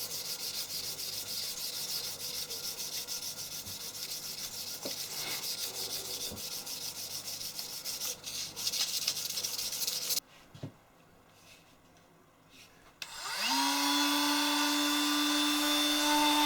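A cast bronze axe is polished by hand with a lump of mud and fine sand, giving a steady gritty rubbing scrape, then a quiet pause before a loud sustained mechanical hum with a rising tone takes over.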